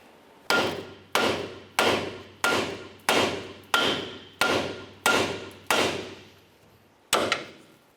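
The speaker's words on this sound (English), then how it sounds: "typically you're just going to want to use a hammer. You can go ahead and give this a couple loving bonks" A hammer strikes an outer tie rod end on the steering knuckle of a 2005-2010 Chevrolet Cobalt: nine sharp metallic blows in an even rhythm, then a short pause and one final hit, loud and close.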